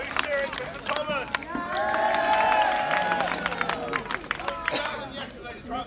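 Spectators at a medieval festival cheer and shout for knight combatants, a sustained crowd roar with claps and whistles that swells in the middle and then thins, with voices calling out throughout.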